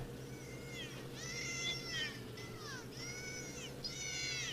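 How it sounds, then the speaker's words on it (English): A school of porpoises vocalizes in a recording, with a series of whistling, sweeping squeals rising and falling over a constant low hum and hiss. "That sound is the voices of a school of porpoise."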